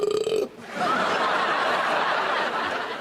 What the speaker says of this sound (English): Oh, I love a good burp, me.